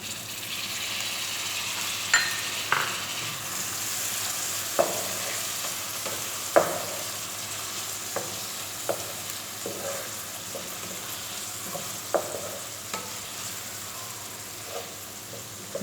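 Boiled potatoes and eggs frying with onion in a masala pan, a steady close sizzle punctuated by repeated soft clinks and scrapes of a stirring spoon, with no voices.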